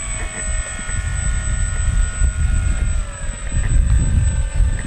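The electric motor of an FMS Ranger 1800mm RC float plane whines steadily at close range while taxiing out on water, with a high sustained tone over gusty low rumble and wind on the microphone.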